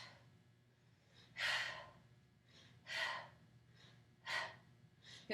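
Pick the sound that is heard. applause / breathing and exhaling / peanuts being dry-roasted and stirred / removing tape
breathing and exhaling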